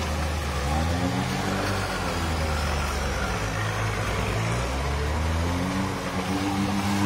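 An off-road vehicle's engine drones loud and steady at close range, its pitch rising and falling slightly as it strains to push a stuck Suzuki Samurai with its wheel, with no talking over it.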